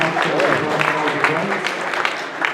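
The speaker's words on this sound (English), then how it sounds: "And for Hobbit Evil, with a massive round of applause, Lucas Whitcroft White." A tournament audience gives a dense, steady round of applause for the winner, many hands clapping together close by while voices carry through the sound.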